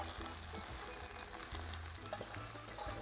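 Spinach (chorai bhaji) cooking down in a pot gives a steady, close sizzle and bubbling hiss that runs the whole time, with a few soft stirring knocks and no talking.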